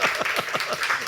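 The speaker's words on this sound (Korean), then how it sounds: "이 두 분을 응원하는 차원에서 또 감사의 차원에서 우리 박수 한번 쳐봤으면 좋겠어요." A church congregation at a Sunday worship service bursts into continuous, dense applause that fills the room, with many hands clapping together at close range.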